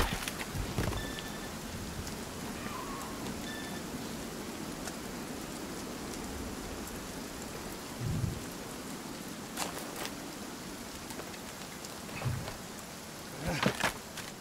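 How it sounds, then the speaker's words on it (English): Steady rain in the survival video game Sons of the Forest, a constant hiss of falling water with a few louder thumps and patters rising out of the wash. "thank God for that rain. That was so loud."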